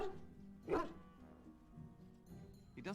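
Dog barks in Dragon Age: Origins, a single sharp bark followed by another shorter one near the end, heard over quiet game ambience with voices talking around it.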